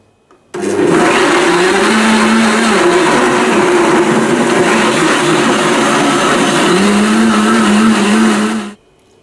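A blender runs on high, whirring a blueberry, apricot and plum smoothie in a loud, continuous motor roar that starts abruptly, holds steady for about eight seconds with a shifting pitch, then cuts off.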